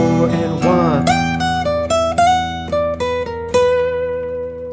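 Electric guitar playing a minor blues lick in E, a bent opening note followed by a string of picked single notes stepping downward, clear, close and sustained with no talking.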